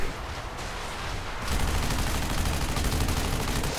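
Gunfire in the shooter Section 8: Prejudice: a steady, loud stream of rapid shots begins partway through and keeps rattling on, with quieter firing and background noise before it.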